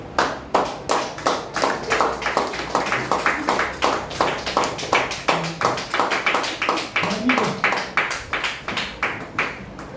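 Church congregation clapping in a steady rhythmic beat, many hands together, fairly loud and continuous throughout, with faint voices mixed in underneath.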